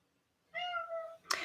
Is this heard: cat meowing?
yes